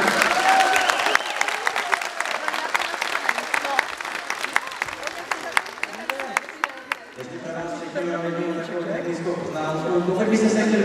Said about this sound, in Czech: tak jim ještě jednou zatleskejme